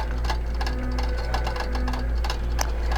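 A QBOT quilting robot stitches a quilt with a steady, close mechanical hum and a fast, even ticking of the needle that runs without pause.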